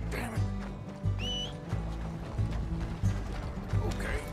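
A borrowed horse trotting in Red Dead Redemption 2, its hooves beating a steady, fairly close clip-clop rhythm over mechanical clatter and faint game ambience.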